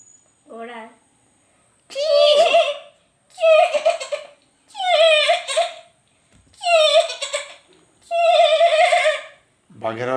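A young child imitates a horse's neigh with five bright, shrill, wavering whinny-like calls in rhythmic bursts, each about a second long and separated by short pauses, close and fairly loud.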